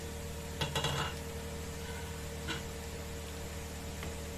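The lid comes off a pot of banana-stem dal with a brief metallic clink and rattle, followed later by a couple of faint taps over a steady low background hum.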